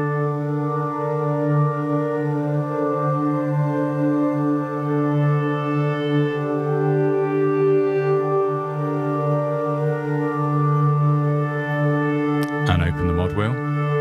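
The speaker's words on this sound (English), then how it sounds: "New Standard is quite an organic, quite a natural kind of sounding pad" Omnisphere synthesizer pad patch named New Standard, organic and natural in tone, holds a sustained harmonic chord with a slight shift partway through, ending in a brief burst of noise.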